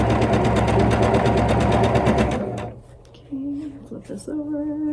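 Quilt squares are joined with a quarter-inch seam on a loud, steady sewing machine that runs for about two seconds and then stops, followed by a brief voice.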